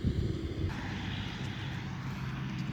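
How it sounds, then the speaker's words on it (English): Noisy tractors pass nearby outdoors, producing a steady, fairly faint engine drone with a broad rumbling wash that builds slightly and holds. "there's noisy tractors coming up here"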